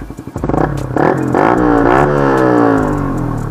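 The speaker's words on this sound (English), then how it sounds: "Here to the exhaust note." A Yamaha R15 v3 motorcycle is revved hard up close: a few quick throttle blips climb into a loud, rising exhaust wail that holds high and then eases off, with no one speaking.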